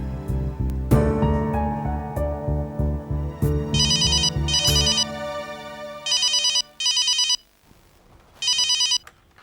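A mobile phone ringtone rings in repeated bright bursts with short gaps, preceded by loud rhythmic dramatic music, clear and close.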